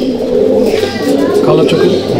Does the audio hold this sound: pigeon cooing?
yes